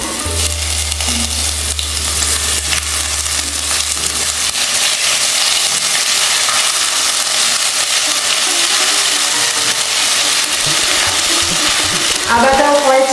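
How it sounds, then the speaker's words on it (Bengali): Ginger paste sizzles loudly in hot tempering oil for sambar dal, a steady broadband fry with stirring scrapes throughout and a brief low hum early on. "আদাটাও কয়েক সেকেন্ড নাড়াচাড়া করে একটু ভেজে নিচ্ছি।"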